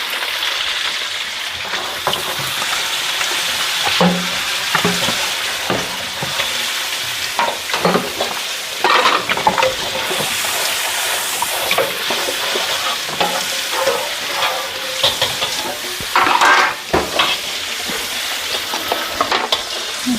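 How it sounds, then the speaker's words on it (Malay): Food with curry spices sizzles and crackles steadily in a hot pan while a utensil scrapes and stirs through it, with no talking. "kita kacau lagi sampai layu"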